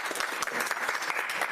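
Applause fills the room at a community board meeting, a dense patter of clapping hands from the audience that carries on evenly and alone.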